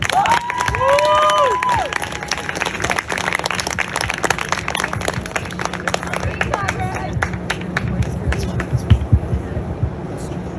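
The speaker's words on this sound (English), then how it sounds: "Please now give a round of applause for Rabbi David Feldman and Rabbi Joseph Hos" An audience applauds guest speakers at a university film screening, dense clapping and some cheering, loud and close, with a few voices calling out over it.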